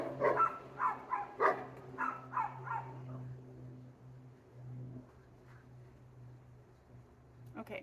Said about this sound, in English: I'm gonna wait for the dogs again